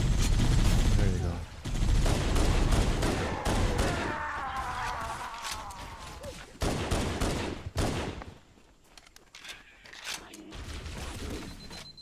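Video game gunfire crackles in rapid bursts and fusillades, with booms and mechanical clatter in a dense, loud mix as a player talks over it.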